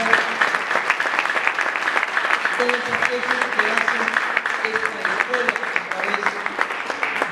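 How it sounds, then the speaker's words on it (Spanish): Applause from a church congregation in Argentina, steady dense clapping of a sizeable crowd. It runs throughout with spoken words and voices mixed in over it. "También le damos un fuerte aplauso."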